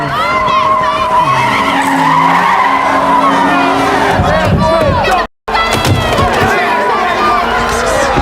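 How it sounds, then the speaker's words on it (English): Several cars drift at a street takeover in an intersection, tyres skidding and squealing continuously and loudly, while a large unruly crowd shouts and cheers around them, with a brief dropout partway through. "multiple vehicles drifting"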